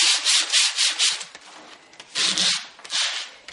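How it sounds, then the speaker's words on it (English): A shiny surface on a beer-case miniature is sanded by hand to roughen it, close rhythmic rasping strokes in repeated bursts with brief pauses, no talking. "I'm going to sand it everywhere so that it will stick nicely for me."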